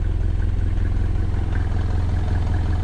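An old taxi with a million kilometres on it idles quietly, a low, steady engine rumble with a faint regular clatter, alone with no talk.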